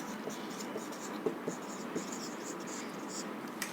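A pen scratching out a sentence by hand on paper, with soft, close strokes and small taps in an irregular rhythm, faint and steady, over quiet room background.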